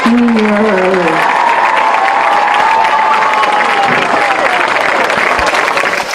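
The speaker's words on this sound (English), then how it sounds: "Let's give a big round of applause to all of our seniors." Loud, sustained applause and cheering from a high school football crowd greeting seniors at halftime, with a few voices calling out early and the clapping steady throughout.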